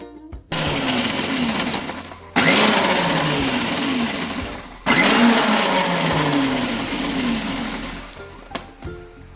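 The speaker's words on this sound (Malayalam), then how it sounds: "ചെറുതായി അരിഞ്ഞ് ഇഞ്ചി കഷ്ണം, പിന്നെ വെളുത്തുള്ളി അത് കൂട്ടിയിട്ട് അരക്കുക" A kitchen blender grinds chopped ginger and garlic in loud, steady whirring bursts, stopping briefly twice and starting again, then falling silent with a few faint clicks at the end.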